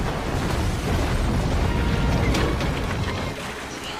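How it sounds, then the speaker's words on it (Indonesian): A hut blows up after a gas tank is shot, a loud, dense roaring blast sustained for several seconds with heavy low rumble, tapering slightly toward the end. "Roma menembak tabung gas yang membuat pondok itu meledak"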